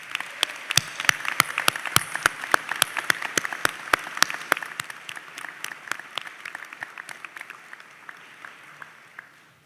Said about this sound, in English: So could you join me in offering them a sustained round of applause?